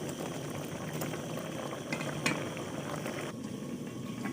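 Vermicelli (sevaiyan) boiling in water in a pot, a steady close bubbling and hissing simmer with small pops, continuous and without talk.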